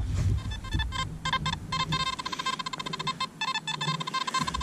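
Nokta Simplex metal detector sounding its target tone, a run of sharp electronic beeps in quick irregular bursts with short pauses, close and clear over low background rumble.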